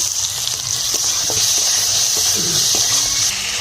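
Potato and taro going into hot oil tempered with bay leaf for a fish curry, a loud continuous sizzle with scraping stir strokes throughout, close up and without talk.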